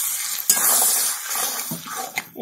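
Chicken ghugni with fresh peas stirred in a pan, a soft scraping and sizzling close by, with a few sharp utensil knocks against the pan along the way.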